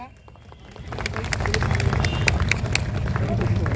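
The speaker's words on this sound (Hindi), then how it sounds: "एक बार जी जोरदार तालियां" Steady, dense applause from an audience at a Hindu community gathering honouring the ISKCON temple president, building up over the first second and then staying full and continuous with crowd murmur mixed in.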